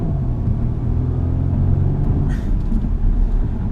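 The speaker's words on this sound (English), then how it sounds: "This thing launches quick though." A 2018 Audi A5 2.0T coupe with a manual gearbox accelerates, its steady low engine rumble and road noise heard from inside the cabin, loud and continuous.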